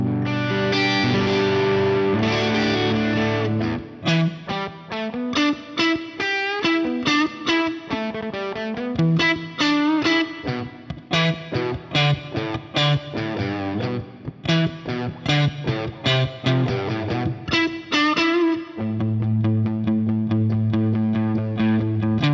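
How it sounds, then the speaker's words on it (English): A Boss SY-1000 plays modelled Les Paul rear-pickup and Stratocaster guitars panned to opposite sides, a continuous run of clean picked notes and chords ending in sustained ringing chords, with no talking. "the Les Paul on the rear pickup, string 6, 4, and 2, and that should be panned either left or right, and the Strat should be on the other side"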